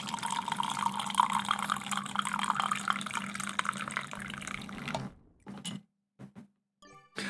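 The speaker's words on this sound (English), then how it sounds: "Let's pour in some coffee." Coffee poured steadily into a cup, a close continuous liquid stream for about five seconds, then a few brief trailing dribbles and drips before it stops.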